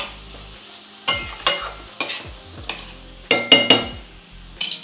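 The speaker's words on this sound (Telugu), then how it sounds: "సో ఇలా ఉల్లిపాయ కూడా వేసేసుకొని ఇది కొంచెం మనం మగ్గనివ్వాలి ఉల్లిపాయని." Onions frying in a pan, stirred with a metal utensil that strikes the pan in sharp clinks and scrapes over a soft sizzle, with no talking.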